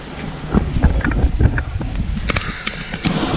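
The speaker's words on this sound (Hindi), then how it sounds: "अभी बहुत तेज़ तेज़ हवा भी चल रहा है" Strong gusty wind buffets the microphone with low rumbling, mixed with scattered taps and splatters of large raindrops during heavy rain in Malir.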